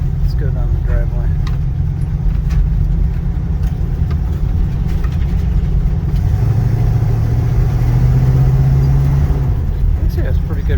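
A Pontiac Ventura, its choke still pulled on after sitting unstarted for three years, rumbles down a driveway with a steady loud low engine drone that rises slightly in pitch toward the end.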